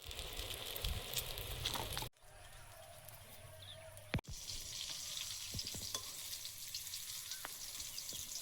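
Eggplant pieces frying in oil, a soft continuous sizzle that drops out briefly, then resumes with a sharp clack and light stirring taps.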